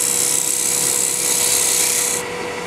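Turning tool cutting a groove on a lathe, a steady hissing, rasping cut with a constant hum underneath, close and fairly loud, the high hiss dropping away near the end as the cut stops.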